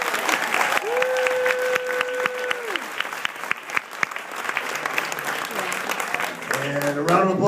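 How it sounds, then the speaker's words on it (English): Dense applause from an audience fills the whole stretch, with a brief voice and a tone sounding early on over the clapping. "And a round of applause"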